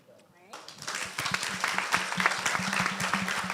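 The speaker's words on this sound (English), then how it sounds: "Round of applause for our panelists." Audience applause for the panelists at a media exhibition panel, starting quietly then swelling into steady, dense clapping that stays loud to the end.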